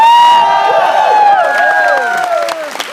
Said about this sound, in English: my big brother James Lee, can we give him a big round of applause?